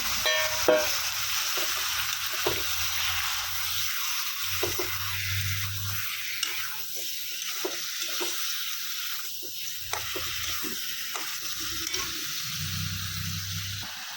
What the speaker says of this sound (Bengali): মাছ ভাজা হয়েছে এখন দিয়ে দিলাম মাছগুলা